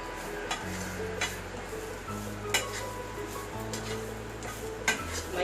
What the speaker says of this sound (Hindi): अभी इसको नारियल को भून रही हूँ।